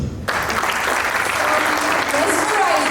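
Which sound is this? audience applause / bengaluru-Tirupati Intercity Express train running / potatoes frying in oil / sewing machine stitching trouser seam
audience applause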